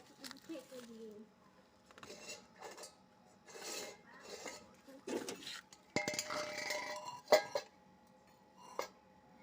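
On a sunny rooftop, a metal frying pan and utensils clink and knock as they are set down, scattered light clatters between quiet stretches, with a person talking nearby.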